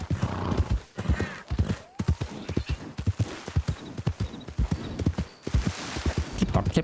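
Rhythmic horse hooves clip-clopping at a steady trot in the video game Red Dead Redemption 2, close and clear, with an occasional whinny and the creak of movement between the beats.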